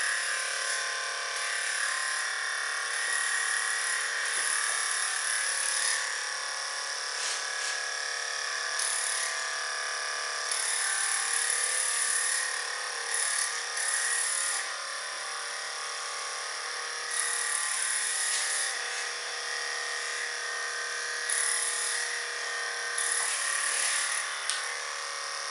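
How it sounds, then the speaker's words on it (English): An electric hair clipper buzzes steadily and close while trimming hair for an undercut bob, a continuous high whine that dips and swells slightly as the blades move through the hair, with no voices. "I always like to use the very end on the clipper to just bring it this way so you can keep it nice and even."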